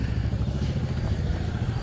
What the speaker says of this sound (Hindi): मैं काज़िम अली की मोटरसाइकिल लेके आया हूँ। ये यूनिक है दोस्तों और ये बहुत पुराना मॉडल है